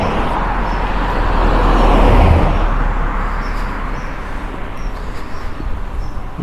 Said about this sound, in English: Quite early, so we've got the commuter traffic.